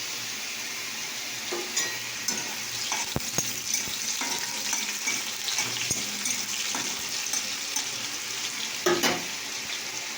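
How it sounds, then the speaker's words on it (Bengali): Chopped garlic and chili frying in oil, a steady soft sizzle throughout with scattered scrapes and stirring clicks, moderately quiet and fairly close, with no talking. "এবার রসুন ফেলে দিলাম ছোট করে"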